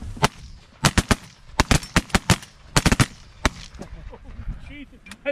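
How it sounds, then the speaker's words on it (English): Shotguns firing during a duck and goose hunt: about a dozen sharp, loud blasts in quick irregular bursts, some nearly overlapping, followed by calmer outdoor noise with voices. "I think we both shot that last"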